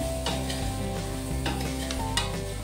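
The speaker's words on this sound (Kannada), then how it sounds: "1 ನಿಮಿಷ ನಾನು ಇದೇ ಎಣ್ಣೆ ಹಾಗೂ ಈ ಮಸಾಲೆಯಲ್ಲಿ ನಾನು ಪಡವಲಕಾಯಿನ ಹುರ್ಕೋತಾ ಇದ್ದೀನಿ" Snake gourd pieces sizzle in oil with masala, a close, continuous frying hiss under brisk stirring that produces repeated scraping clicks against the pan.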